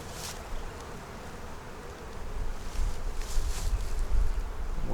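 Honey bees hum and buzz steadily in an opened hive during inspection, a dense close drone that swells louder midway through, with faint handling noise and no speech.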